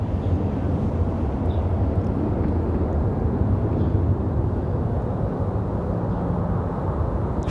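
A small trainer aircraft takes off from runway 23 left, a low, steady engine rumble rolling on evenly at moderate distance, with no speech over it.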